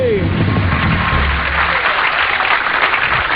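An audience claps steadily and loudly for a stage contestant, a dense wash of applause that carries evenly from start to finish.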